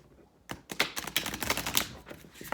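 Soft, rapid riffling and flicking of oracle cards, a series of quick papery clicks in bursts, fairly close and moderately quiet.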